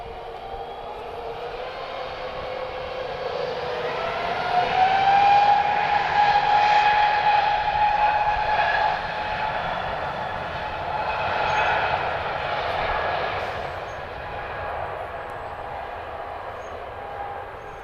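An Air France airliner taxies towards runway 02 at Lisbon Airport, its jet engines giving a steady, fairly distant whine and roar that swells gradually and then eases, with a sustained high tone.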